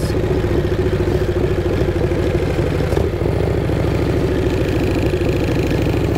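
A Harley-Davidson Shovelhead motorcycle ridden at night: the engine chugs in a steady, close, loud loping rumble, with a slight dip partway through before the throbbing carries on evenly.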